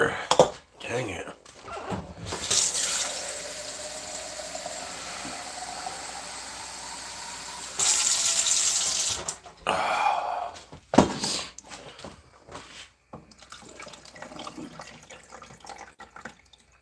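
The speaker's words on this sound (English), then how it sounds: "Helps if I put water in the coffee maker before pressing the brew button" Water pours into a home coffee maker's reservoir in a steady, close stream lasting several seconds, with a brief louder rush, followed by clattering handling noises and some muttered speech.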